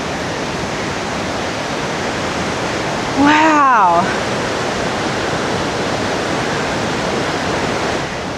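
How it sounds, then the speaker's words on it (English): A thundering waterfall in Kings Canyon National Park roars as a steady, loud wash of rushing water, with a brief exclaimed word partway through. "You could hear the thunder of the water, like as you're walking next to it"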